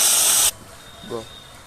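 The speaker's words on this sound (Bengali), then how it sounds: "কড়াইটা তেতে গেছে, এবার আমি জল দিয়ে দিচ্ছি" A loud, sharp hiss of water poured into a hot pan bursts out for half a second and cuts off abruptly, followed by near silence and a faint, brief murmur.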